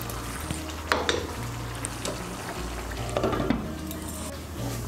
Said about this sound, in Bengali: মাছগুলোকে ভালো করে মিশিয়ে নেব।